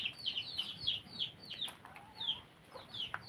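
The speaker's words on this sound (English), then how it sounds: "my tiny chicks here are so noisy already" Tiny chicks peep in rapid, high, overlapping chirps, close by and fairly loud, with a steady scatter of calls through the whole stretch and a low background rumble beneath.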